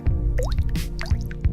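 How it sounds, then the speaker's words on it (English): A tea bag drops into water with a wet plop, followed by soft dripping and squishy liquid sounds, close up. "This is a tea bag going in water."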